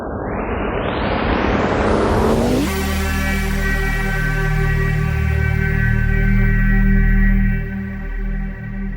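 A rich NI Razor synthesizer patch plays a rising, swept tone that settles into a dense, sustained chord with strong low harmonics. The timbre slowly shifts as the mod wheel moves, with no voices over it.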